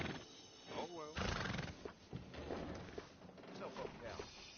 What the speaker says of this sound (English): These horses are as good as they get.